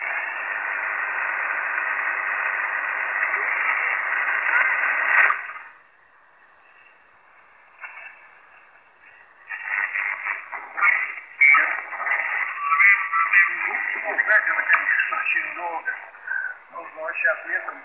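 Tecsun PL-365 radio receiver hissing with steady broadband static, which cuts out briefly and then returns as rougher, fluctuating noise with faint station fragments.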